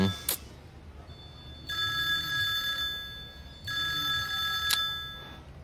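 A telephone rings twice in two long electronic bursts separated by a pause, fairly close and clear over a quiet room.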